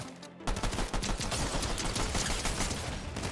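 Rapid gunfire from the Fortnite video game rattles in a dense, continuous burst, loud and close, with no talk over it.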